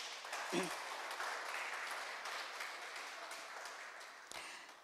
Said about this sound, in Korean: 다시 한번 선생님의 그 큰 사랑에 여러분 박수 한번 보내주시겠습니까?